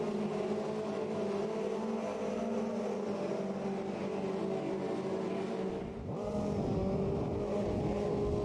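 A Ginetta race car lapping Donington Park in the Automobilista 2 racing game, a loud sustained engine drone that holds steady, then briefly dips and climbs again as it shifts and accelerates.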